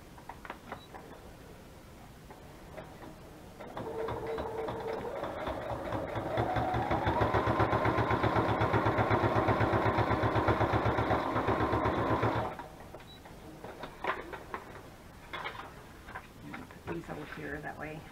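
Sewing machine stitching through the pages of a handmade paper journal, a steady mechanical whir that builds and runs for several seconds and then stops, with a soft voice before and after.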